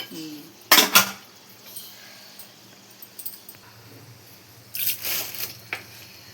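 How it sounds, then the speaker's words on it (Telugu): Clattering utensils and metal clinks around a pan while oil goes in for a gongura (sorrel leaf) chutney, with a sharp burst of clatter early and another cluster near the end, separated by quieter stretches of faint pan noise. "సో ఇప్పుడైతే అత్తమ్మ నూనె వేస్తున్నారు"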